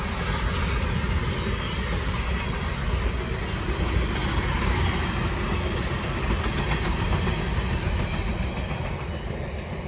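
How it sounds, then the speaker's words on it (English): A long BNSF freight train passes northbound behind a single locomotive, producing a loud, continuous rumble of rolling cars with steady wheel squeal running the whole way through, with no one talking. "It's a long train too, I ain't keeping count."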